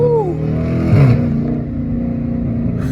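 A catless Dodge Challenger R/T engine drones loud and close in traffic, a low, steady exhaust tone with a brief swell of revs about a second in before settling into a sustained rumble.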